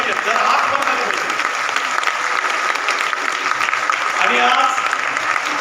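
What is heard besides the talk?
audience applause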